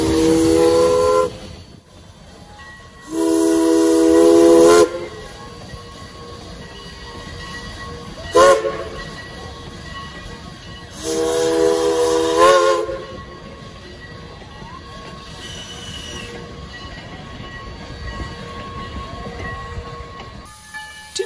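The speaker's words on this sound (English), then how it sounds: "It's a little porter locomotive." A small Porter saddle tank steam locomotive, a type used for logging and mining, runs at an outdoor steam-up event. It gives several loud, shrill whistle blasts of a second or two each over a steady rumble of running gear.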